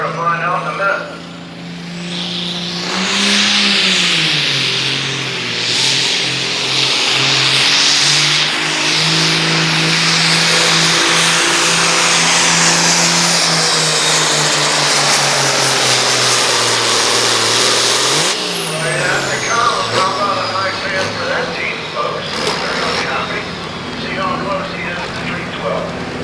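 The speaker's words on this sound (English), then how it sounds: "Let's see how Dan does on Kendra Henry's Blue Maverick. RPM's coming up." A Ford pulling truck called the Blue Maverick revs hard at a county truck and tractor pull. A loud, sustained engine roar climbs and holds, then eases near the end, and an announcer's voice runs over it.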